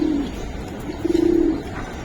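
Giribaz pigeons coo nearby, one short low coo followed by a longer rolling, throbbing coo, close and clear over a quiet background.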